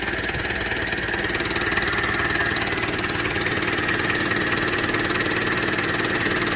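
A Mahindra tractor engine idles close by, a steady low rumbling chug that holds even throughout without revving.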